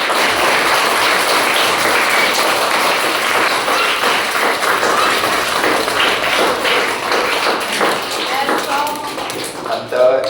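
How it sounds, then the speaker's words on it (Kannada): An audience claps for the chief guest at a certificate ceremony, a dense, steady patter of hands lasting the whole stretch, with voices mixed in. "ಅದಕ್ಕೆ ನಮ್ಮೆಲ್ಲರ ಪರವಾಗಿ ಇನ್ನೊಂದ್ಸಲ ಅವರಿಗೆ ಜೋರಾದ ಚಪ್ಪಾಳೆ"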